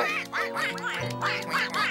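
Cartoon duck quacking repeatedly in a lively, close series of nasal calls, several quacks in quick succession filling the whole moment.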